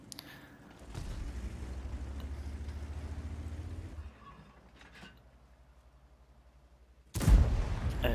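Tank cannon fire from a Skorpion G in a tank video game, with a low engine rumble running under two heavy, booming shots, one near the middle and a louder one near the end.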